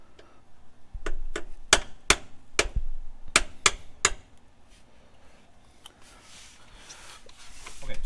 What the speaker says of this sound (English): take a screwdriver, and I like to punch a hole